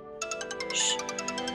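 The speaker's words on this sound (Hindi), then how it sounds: "कुलदीप का फोन।" A phone ringtone chimes in a quick repeating pattern of bright electronic tones, close and clear over a soft hum.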